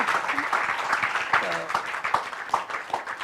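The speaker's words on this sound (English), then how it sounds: "they deserve a big round of applause" A round of applause from an audience, with clapping and voices mixed together and occasional sharper claps standing out.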